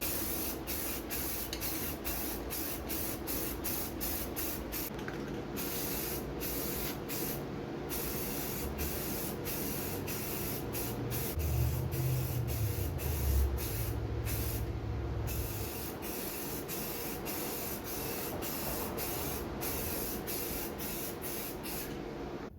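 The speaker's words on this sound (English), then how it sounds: "I'm going to spray it about 2 times with the Rust-Oleum" Repeated short bursts of Rust-Oleum aerosol spray paint hissing onto a vintage end table, many quick pulses in a rhythmic series, close and fairly loud, with a brief low rumble partway through.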